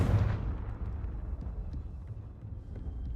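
A Confringo blasting spell explodes in Hogwarts Legacy, a single loud burst at the start that decays into a rumbling tail lasting a few seconds.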